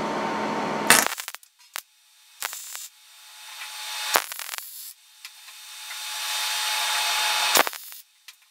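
Tack welds laid down joining a piece of chain to a cylinder bell: several short, loud, crackling bursts spaced a second or two apart, one longer buzzing weld in the middle, near and harsh, with no talking.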